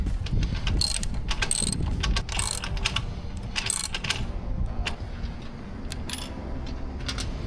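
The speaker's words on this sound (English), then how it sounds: "I'll take the wrench and fix that mount." A wrench works a mount on a DualTrack-T van track in a Sprinter, giving repeated metallic ratcheting clicks and rattles, close and steady throughout with no talk.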